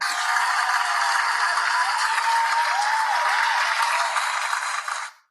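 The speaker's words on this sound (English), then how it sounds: "You get your applause now." Canned applause played from a soundboard at a web development bootcamp's student project presentation, a steady dense wash of clapping that holds evenly for about five seconds and cuts off abruptly.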